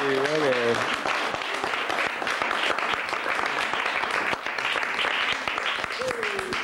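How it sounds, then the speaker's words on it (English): A crowd claps and cheers continuously, loud and sustained, with a voice calling out briefly at the start and again near the end. "let's have a little bit of applause. Come on, everybody, please."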